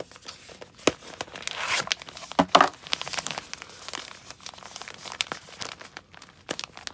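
Packaging of a DJI Mic Mini being peeled open by its pink sticker, a run of close crinkling and tearing crackles in irregular bursts, with no talking.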